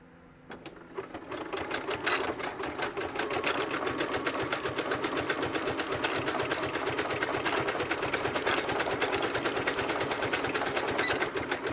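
A sewing machine stitches an ephemera holder in a steady, continuous run of rapid needle strokes, close and even throughout.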